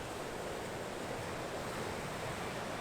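Ocean waves break at a headland in Noosa as a steady, broad roar of surf with some wind noise, heard from a distance with no voices.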